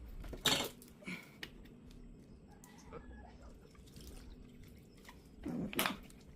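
Ice water is poured into a container while making local guava juice, with two brief splashing pours at the start and end, plus faint trickles and clinks between them, heard nearby and quiet.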